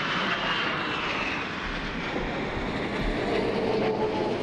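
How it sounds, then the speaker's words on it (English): United States Air Force jets fly over a Memorial Day ceremony at Punchbowl in Hawaii, producing a steady, rushing engine roar that holds throughout at moderate distance with no speech. "It was followed by a three-volley salute, taps, and a jet flyover by the United States Air Force."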